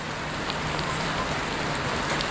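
Heavy rain pours steadily at a workshop, a dense, even hiss with occasional sharper drops hitting nearby surfaces, close and continuous throughout.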